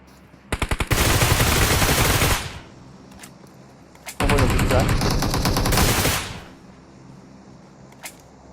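Rapid automatic gunfire in PUBG Mobile, fired without a scope: a few single shots build into a long close burst, a pause, then a second sustained volley, with faint talk in the quiet gaps.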